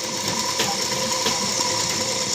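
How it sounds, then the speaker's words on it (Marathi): A sewing machine runs steadily up close while double-stitching tucks on a blouse, a continuous mechanical whir with faint rhythmic ticking and no voices. "प्रत्येक टक्सला आपण डबल शिलाई मारत असतो."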